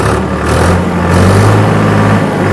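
A tractor engine revved to about 2150 rpm to drive a 1000 rpm PTO, giving a loud, steady, close mechanical drone that holds level throughout with no voices.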